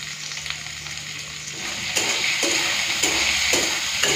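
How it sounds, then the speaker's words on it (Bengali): Eggplant seasoned with salt and turmeric fries in hot oil in a pan. A close, constant sizzle runs throughout, and from midway a spatula scrapes and stirs in repeated, evenly spaced strokes. "বেগুনটা হালকা একটু ভেজে নেব,"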